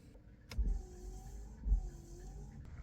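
The rear wiper on a 2013 Mazda 3, just fitted with a new blade, sweeps back and forth with a low motor hum and two soft thumps as the blade reverses, quiet and close.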